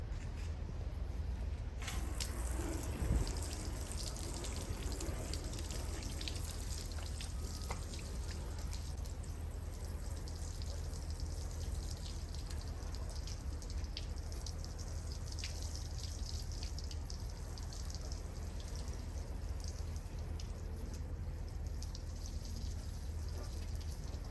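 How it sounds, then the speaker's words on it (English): Water rinses residue off a vehicle part in an even, continuous spray that runs without a break, with a slight splash early on. "Now we're going to go ahead, rinse it off, and see what's going on."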